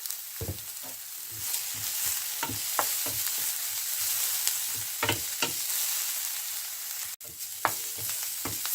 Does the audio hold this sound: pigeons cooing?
no